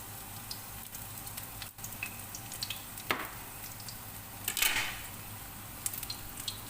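Onion and garlic fry in a hot pan, a steady soft sizzle with a few louder crackling spatters near the middle, close by with no talk.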